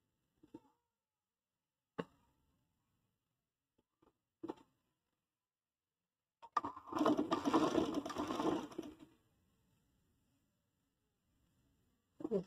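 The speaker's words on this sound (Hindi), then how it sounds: "अब मैं सेंटर पे एक सिलाई लगा दूंगी मोटी।" Sewing machine running a thick seam down the center of fabric for a mexxi dress, a few isolated clicks and taps followed by a buzzing burst of rapid stitching lasting about two seconds, close and fairly quiet.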